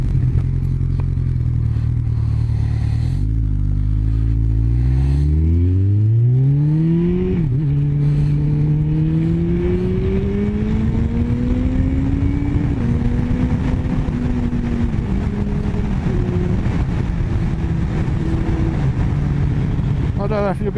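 A Kawasaki ZZR 1400 with Akrapovic exhausts under way, engine note rising steadily through several gear changes, then settling into a smooth cruising drone with constant wind rush.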